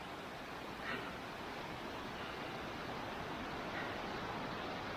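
Rushing river rapids beside a Gatlinburg hiking trail produce a steady, dense broadband roar of churning water, constant and moderately near, with no voices.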